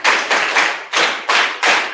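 Students clap in a slow rhythmic pattern at the close of an online session with an international educator, about six loud, separate clap bursts spaced evenly apart.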